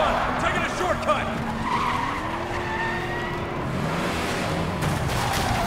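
In Resident Evil 6, a car is driven hard with tires squealing and skidding in long, wavering whines over a steady loud engine roar throughout, close and sustained.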